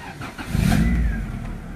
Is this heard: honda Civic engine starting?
yes